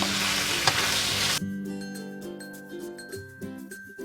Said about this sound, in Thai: ปลาหมูเริ่มสุกแล้วใส่ผักทุกอย่างลงไปเลยค่ะ ทีนี้ก็ผัดจนกว่าผักจะสุกนะคะ